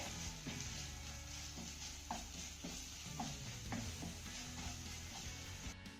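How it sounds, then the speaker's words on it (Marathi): Sesame seeds roasting and being stirred in a pan, a steady soft sizzle under repeated light scraping taps of a spoon, with no voices. "यामध्ये आपल्याला एक चमचा तीळ घालायचे त्यानंतर हे तीळ देखील आपल्याला चांगले परतून घ्यायचे आहेत"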